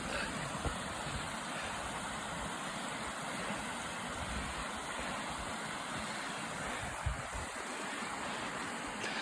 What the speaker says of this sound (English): There's a wee waterfall.